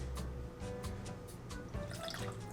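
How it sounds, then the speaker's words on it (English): Lime juice poured into a pineapple coconut mocktail, a soft close trickle and drip of liquid over steady low background hum. "Then we're gonna add our lime juice"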